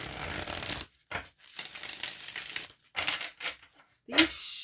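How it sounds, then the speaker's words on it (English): Tarot cards shuffled by hand, a series of close, soft riffling and crinkling bursts separated by short pauses, ending with a sharper snap. "These shuffle so beautifully, so subtly, so smoothly."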